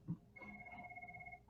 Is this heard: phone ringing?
yes